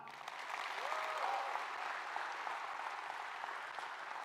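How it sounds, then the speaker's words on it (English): A conference audience at an export business event breaks into loud, sustained clapping and cheering, a dense wash of applause that fills the hall throughout without letting up. "I want it to be even louder cheering and clapping than before."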